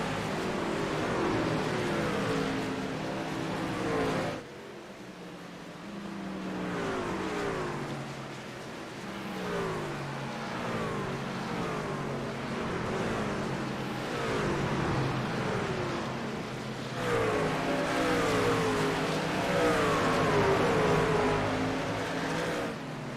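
Race trucks lapping Gateway track in a racing video game truck series, engines droning and revving continuously with rising and falling pitch sweeps as trucks pass, loud and unbroken throughout, no talk.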